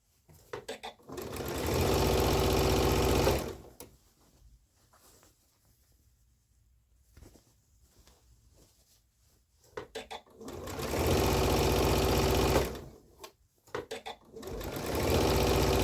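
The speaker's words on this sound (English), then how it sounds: "Sometimes I back stitch at that corner because our hand is in and out the pocket." A sewing machine back stitches the pocket corner of a boy's elastic-waist pant, running in two loud steady bursts separated by a quiet pause with faint handling noise.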